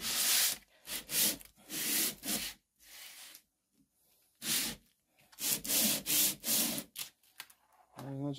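An 80 grit abrasive sheet scrubs against the sole of an inexpensive metal hand plane as it is lapped flat, making repeated harsh, gritty rubbing strokes in a steady back-and-forth rhythm, close and fairly loud, with short pauses between passes.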